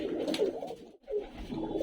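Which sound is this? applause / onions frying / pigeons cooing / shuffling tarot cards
pigeons cooing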